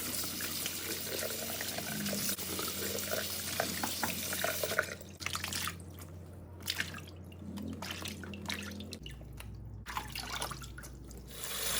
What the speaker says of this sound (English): I'm going to wash the tomatoes